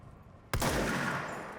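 A single loud, close shotgun blast from the video game Control, going off sharply after a quiet moment and leaving a long, dense roar that trails away.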